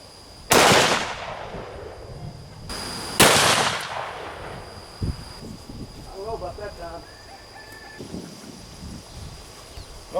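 Two loud magnum pistol shots crack out a couple of seconds apart against body armor panels at a range, each with a sharp ringing tail, followed by quieter clinks and a voice talking.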